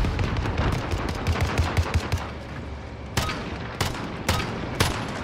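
Rapid gunfire from the video game Call of Duty: Modern Warfare, a dense, loud stream of shots with several sharp louder cracks near the end, no talk over it.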